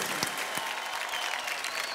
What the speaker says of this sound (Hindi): महेश के लिए जोरदार तालियां हो जाए.